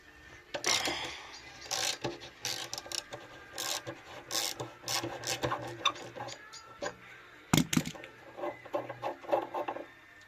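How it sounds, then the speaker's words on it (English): A ratchet with a 10mm socket working on the petrol cock of a Honda CD175 motorcycle, with close, quiet rasping clicks in uneven bursts and a sharper knock near the end. "Oh, I got the old 10mm socket on there, for goodness sake."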